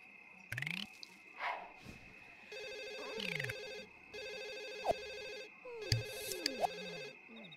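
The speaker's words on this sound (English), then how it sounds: "It doesn't ever stay ringing long enough for her to get it." Ringing telephone in The Sims 1, repeated electronic ring bursts spaced through the stretch and mixed with squishy, dripping game effects and small clicks, with no speech.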